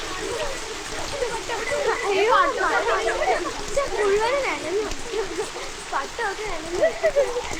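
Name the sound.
rain falling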